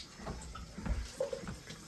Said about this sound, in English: this has got some gunk in it that needs to be rinsed out